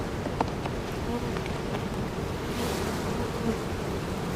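Honeybees buzz steadily around an open hive with active honey supers during a beekeeping inspection, a dense close insect drone filling the whole stretch.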